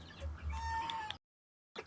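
Hens on a chicken farm cluck softly at a distance, a low murmuring chorus with a faint sustained call, then a short silence before the clucking resumes.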